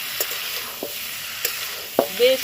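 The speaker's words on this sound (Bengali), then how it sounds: "এই মেটে আলুটা দিয়ে এবার ভালো করে কষিয়ে নেবো" Yam (mete alu) is sautéed in a wok for a dried fish curry, giving a soft continuous sizzle broken by a few sharp spatula scrapes and clinks, close and moderately loud with no speech.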